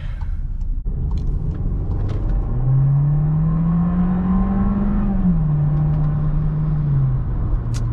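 A 2020 Volkswagen Jetta S engine drones loudly and steadily, its pitch climbing as it strains under acceleration, then easing slightly near the end.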